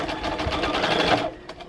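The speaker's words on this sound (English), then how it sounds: "And then I just go ahead and sew." A sewing machine stitches quilt patchwork seams, a rapid, even, close-up whirring run of needle strokes that continues for over a second and then stops, followed by a brief soft handling noise, with no talking.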